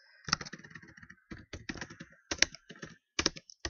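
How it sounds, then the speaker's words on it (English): Computer keyboard clacking as code is typed, quick bursts of close keystrokes separated by short pauses, with a few sharper louder key hits standing out. "I'm just typing code"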